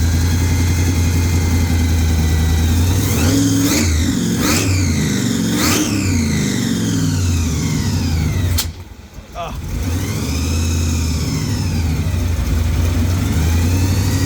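A supercharged 383 V8 in a third-generation Camaro IROC-Z runs loud and close after a fuel pressure fix, a throbbing idle punctuated by several sharp revs that climb and fall, then a brief dip before settling back to a rough idle.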